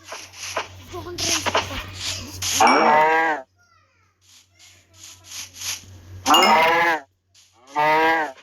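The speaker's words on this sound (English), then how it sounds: "there is some sheep and pig" Sheep in a crafting video game bleat in short wavering calls, one near the start and two more later, separated by quiet gaps, with a low game hum and clicks earlier on.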